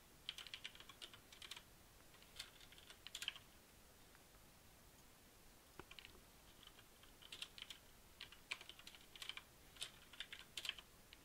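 Quiet, close computer-keyboard typing comes in irregular bursts of rapid keystroke clicks, separated by short pauses, with no speech.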